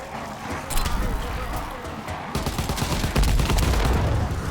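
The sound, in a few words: gunfire at Zeppelin in Call of Duty WW2 Zombies video game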